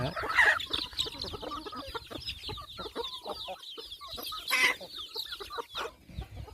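Many chickens and ducks cluck and chatter continuously close by, with occasional louder squawks rising above the flock.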